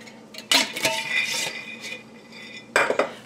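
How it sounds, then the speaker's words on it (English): Pecans stirred into a thick rocky road fudge mixture in a pot, with two sharp spoon clatters against the pan and softer scraping in between, close and without talk. "We're going to stir those in to help it cool down a little bit."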